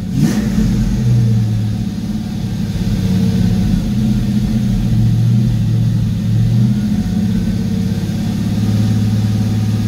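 A Fox Body Ford Mustang engine running loud and close, revving with rising and falling low rumble throughout, no voices.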